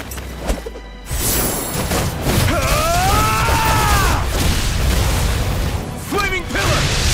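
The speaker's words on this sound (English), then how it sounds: "Blazing Pillar, used by Alphen from Tales of Arise." A Blazing Pillar fire attack from the game Tales of Arise opens with a sharp burst, then gives way to a dense, roaring, crackling blaze with impacts that holds for several seconds, while voices shout over it.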